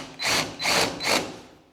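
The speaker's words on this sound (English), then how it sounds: "I'm gonna drill a little countersink in" A power drill bores a countersink into wood in three short bursts, each about a third of a second with brief pauses between, close and fairly loud with no talking.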